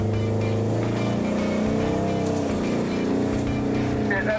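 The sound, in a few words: Jeep engine crawling up a rocky ridgeline in Moab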